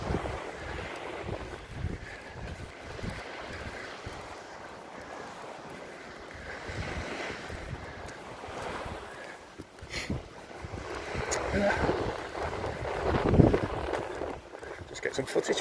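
Waves wash onto the beach at Skegness on a quiet morning, a constant rumble of surf and gusting wind buffeting the microphone, rising louder toward the end with occasional voices in the background.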